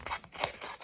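Short rustling and tearing of a paper packet being opened, close and crisp, lasting under a second.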